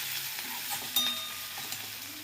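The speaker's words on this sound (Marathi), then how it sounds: "आता आपला कांदा भाजलेला आहे, त्यामध्ये आपण हे वाटण जे केलं होतं ते टाकायचंय." A ground paste of green chili, ginger, coriander and garlic hits fried onion in a pan and sizzles steadily, with soft stirring scrapes and a brief louder crackle, no voices.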